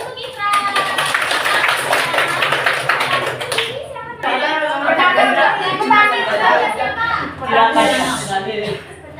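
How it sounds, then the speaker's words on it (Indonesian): A class of middle-school students clapping for a classmate, a burst of quick close applause mixed with children's chatter and voices, then another round of clapping with lively kids talking over it. "Tepuk tangan dulu untuk Ifra."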